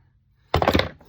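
A plastic hammer gives a few gentle, quick taps on a motor housing, a short cluster of dull knocks after a moment of near silence.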